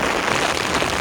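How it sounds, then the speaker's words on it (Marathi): Heavy rain pours down steadily on a morning walk through a Konkan forest, a dense, even hiss of falling water close by with no voices. "आणि आता अचानक भयानक पाऊस इलेलो आहे"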